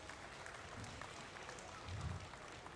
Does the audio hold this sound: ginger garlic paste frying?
no